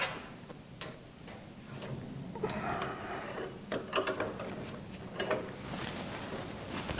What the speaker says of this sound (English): so I got to countersink it with this.